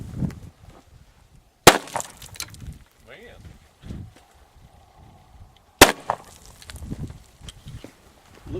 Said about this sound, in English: We're going to shoot at this cinder block on a straight on shot